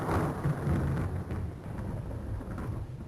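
A thunder sound effect from a Thunderboard sound card, a deep rumbling roll that swells loud at the start and then fades into a softer sustained grumble.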